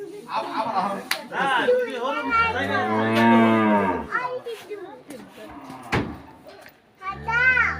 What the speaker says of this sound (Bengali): এই তো গরু চলে যাচ্ছে